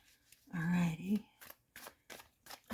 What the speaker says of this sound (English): We're going to shuffle the cards right now.